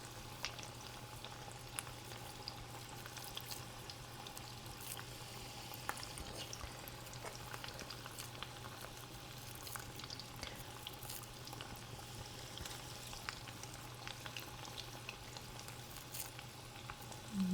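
Spinach corn fritters frying in a pan of hot oil, a continuous close crackling sizzle with scattered pops, steady and moderately quiet throughout, with no voices.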